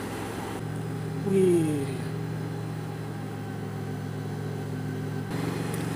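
A motorcycle idles with a steady low drone, then the rider shifts into gear and pulls away with a brief rising engine whine. A voice lets out a short exclamation.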